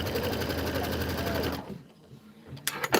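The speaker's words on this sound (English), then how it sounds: "Now it's going to do the placement trim line right there." An embroidery machine runs a placement trim line on pieced blocks in the hoop, a rapid rattling stitch for about a second and a half, then quiet and a few sharp clicks and taps at the end.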